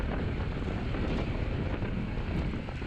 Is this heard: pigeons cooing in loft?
no